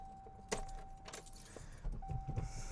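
Keys jangle close by as a 1998.5 Ford Contour SVT with a 5-speed manual is started, with a faint steady chime tone, soft clicks and the low rumble of the engine turning over near the end.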